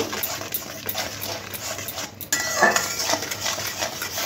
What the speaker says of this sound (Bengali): এবার সব কিছু খুব ভালো করে 2 থেকে 3 মিনিট মশলাটা কষে নেব।